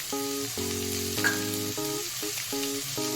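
Green peas are added to a cauliflower curry frying in a pan, making a steady hiss and crackle with a stir, set under a louder melodic music track.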